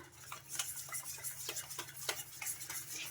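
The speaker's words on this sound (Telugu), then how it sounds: "ఇక్కడ చూపిస్తున్నాను కదా, ఈ విధంగా బాగా కలిపేసుకోవాలి, ఎక్కడ ఉండలు లేకుండా" A spoon stirring flour into a milk batter until smooth, rhythmic light taps and scrapes against the bowl at a steady pace, quiet and close with no voices.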